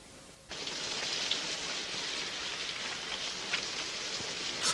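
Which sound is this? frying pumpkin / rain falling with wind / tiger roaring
rain falling with wind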